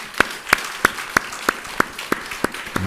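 Audience applause in a Buddhist Q&A talk session: rhythmic, evenly spaced claps, nine sharp beats about three per second, close and distinct above a quiet background.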